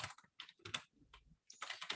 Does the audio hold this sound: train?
no